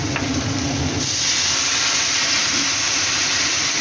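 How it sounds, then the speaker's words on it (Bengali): Water poured into a hot pan of fried bitter gourd hisses and sizzles loudly as steam rises, a dense broadband roar that settles into a steady simmering hiss. "আগে জলটা দিয়ে নেব মাপ মতো"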